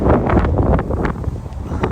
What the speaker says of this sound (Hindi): बहुत ठंडी हवा चल रही है, मैं यहाँ पर खड़ा नहीं हो पा रहा हूँ